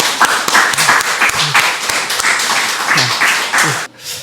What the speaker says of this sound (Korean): 우리 손바닥이 뜨거워지도록 박수로 환영하겠습니다.